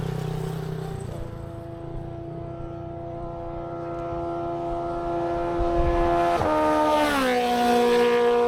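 Motorcycles rev up and pass by on a road on the Isle of Medellin in Cebu, their engines droning steadily, then rising and shifting in pitch as they sweep past nearby.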